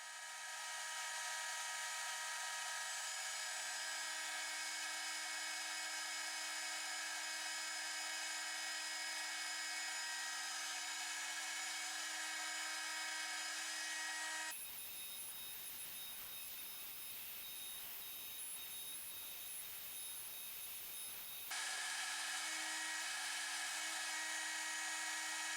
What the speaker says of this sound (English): The outer profile of this front part was then machined on the CNC mill.